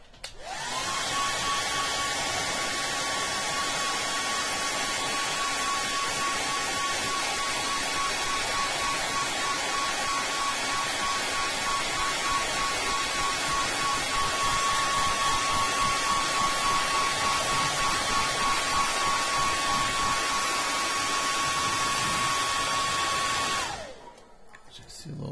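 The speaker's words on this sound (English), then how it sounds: "Get my hair dryer. Go ahead and force dry this a little bit." A hair dryer force-dries fresh paint on a prototype Batman figure, giving a loud, steady whooshing roar with a faint whine that runs unbroken for nearly the whole stretch, then cuts off abruptly near the end.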